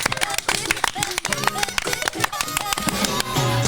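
A studio audience claps and cheers for two comedian guests on a French podcast, a dense burst of applause mixed with whoops and voices talking over it.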